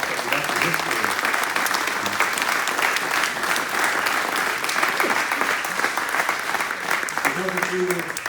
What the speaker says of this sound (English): I really would like to applaud you for looking after the history.